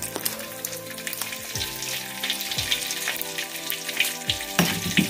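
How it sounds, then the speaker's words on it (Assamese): Five-spice seeds and dried red chilies sizzle steadily in hot oil as the first step of a rajma curry, a close, moderately loud crackle with a few sharper spits and no talking. "প্ৰথমে পাঁচফোৰণ অলপ দিছোঁ এয়া শুকান জলকীয়া দিছোঁ"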